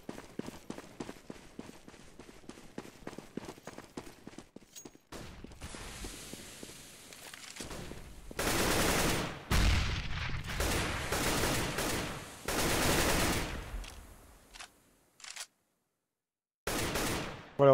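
Rapid gunfire from a competitive shooter video game match, Portugal vs Denmark at the 2015 World Championships European Qualifier: dense bursts of automatic fire and sharp shots crowd the clip, with quieter footstep-like ticks early and a brief silent gap near the end.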